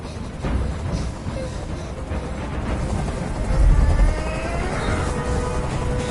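A helicopter hovers overhead in the video game Detroit: Become Human, a steady loud rotor drone with a low rumble that swells midway, alone without talk.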